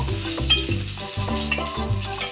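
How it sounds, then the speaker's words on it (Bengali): Panch phoron and green chilli hitting hot oil left from frying fish, a close crackling sizzle with rhythmic low scraping strokes of stirring repeating about every half second. "ওই তেলের মধ্যে আমি পাঁচ ফোড়ন দিয়ে দিলাম এবার দেব আমি কাঁচা লঙ্কা এবার একটুখানি নাড়িয়ে দেবো"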